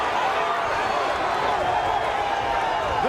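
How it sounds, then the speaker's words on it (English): Boxing arena crowd roaring and clapping during a fight between Juan Francisco Estrada and Roman Gonzalez, a dense continuous wall of cheering under a commentator talking throughout. "This crowd is erupting."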